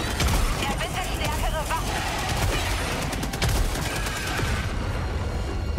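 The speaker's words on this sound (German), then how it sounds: "Ich sehe Schüsse." Dense, continuous gunfire with rapid bursts and booms filling the mix, game-like battle noise with no clear pauses, in Helldivers 2.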